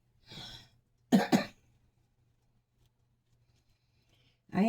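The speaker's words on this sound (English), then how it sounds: "I haven't had a good coughing fit this morning yet" A few short coughs and throat-clearing bursts close to the mic, separated by quiet pauses, with a low steady hum underneath.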